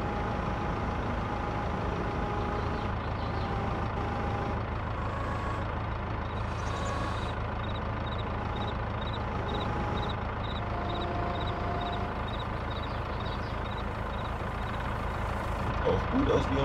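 A tractor or truck engine idles steadily in Farming Simulator 22, a constant low rumble with a faint repeating high beep, heard under a voice.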